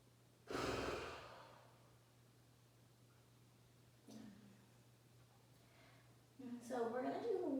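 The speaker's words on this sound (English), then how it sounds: "Take a breath in." A person breathes deeply during a yoga practice, a close, soft breath near the start, a fainter one midway and another deep breath at the end, over a quiet room hum.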